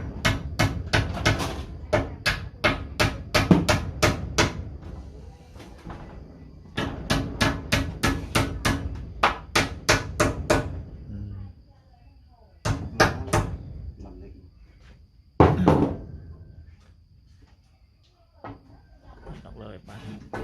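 Sharp, regular blows of a hammer driving nails into wood while fitting a house door, loud and close, in quick bursts separated by brief pauses.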